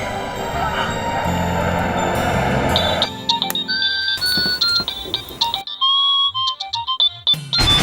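A phone's ringtone chimes through a series of bright electronic tones after some busy background noise at the start, fairly close and clear, with no talking.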